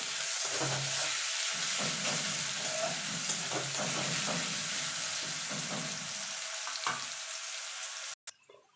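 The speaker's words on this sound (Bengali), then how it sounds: "দিয়ে আলুটা লাল লাল করে ভেজে নেবো।" Potato pieces fry with salt and turmeric in hot oil, making a steady close sizzle broken by stirring scrapes. The sound cuts off abruptly near the end.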